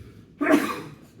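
A single sharp sneeze bursts out close by, then trails off into quiet breath.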